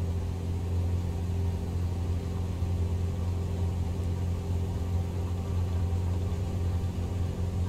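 A steady engine drone from an EA-7 Optica aircraft at full throttle in Microsoft Flight Simulator, a continuous low rumble with a harmonic hum, holding even and loud throughout with no talk.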